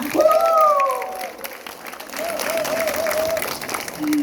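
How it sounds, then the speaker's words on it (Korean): Steady applause from an audience at a film screening, filling the whole stretch with a continuous patter of clapping. "여러분들의 힘찬 박수와 함께 시작하겠습니다"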